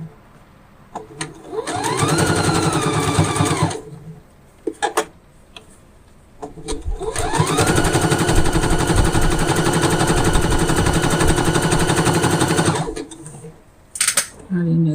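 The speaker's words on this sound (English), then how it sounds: "We'll do it to a zigzag stitch." A sewing machine runs a zigzag stitch in two sustained bursts, a short one and then a longer steady run, close and loud with short gaps between.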